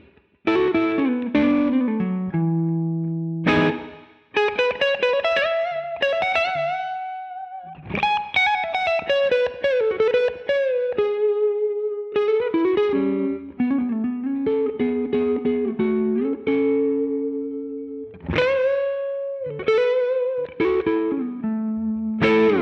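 Electric guitar on the neck pickup through a Marshall Bluesbreaker pedal, playing a melodic run of single notes with bends and slides, sustained and mildly overdriven, loud and close with no talking.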